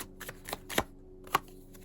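Tarot cards are shuffled and drawn by hand, giving a few quiet, separate papery riffles and snaps over a soft background, with no talking.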